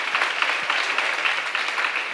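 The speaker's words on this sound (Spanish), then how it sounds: "Un aplauso, por favor, que tengo la plaza llena." Applause from an audience in a packed plaza, a dense, even patter of many hands clapping continuously at moderate level with no voices on top.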